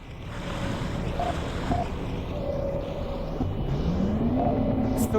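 Water rushing and churning into a flooding submarine hull in Barotrauma, a steady, loud wash with low rumble, faint creaks and a rising groan toward the end.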